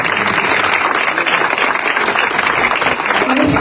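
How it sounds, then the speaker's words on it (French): Audience applause at a conference with Miss France candidates, a dense, steady roar of clapping filling the whole stretch at loud, constant level. "On peut l'applaudir bien pour une fois."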